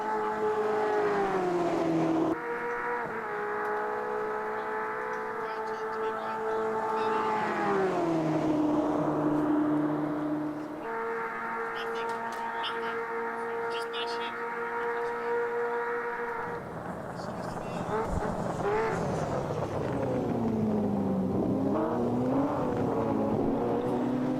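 Race car in a racing game at Spa accelerating hard out of turn 15 and through turn 16, a loud sustained engine howl whose pitch climbs through gear changes, drops briefly, then climbs again, with no talk.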